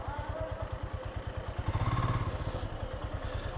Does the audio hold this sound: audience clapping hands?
no